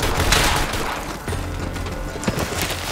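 A pirate-style pistol fires in the shooter game Borderlands 3, with a few sharp gunshots and impacts over a busy, noisy background of gameplay effects.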